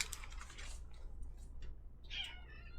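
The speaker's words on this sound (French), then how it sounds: "Excusez-moi, mon chat s'incruste." A house cat meows near the microphone indoors, a few short cries over faint background noise with a pause between them.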